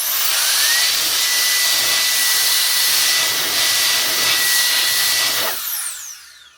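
Compressed air or a turbo blower forced through the dusty top fans of a laptop, a loud continuous close-up hiss with a rising whine, holding steady for several seconds before cutting off and fading.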